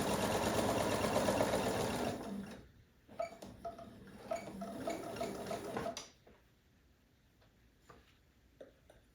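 Sewing machine stitching over nested quilt seams for a mystery quilt, a close steady run for about two seconds, then scattered light clicks and handling taps of fabric, fading toward quiet.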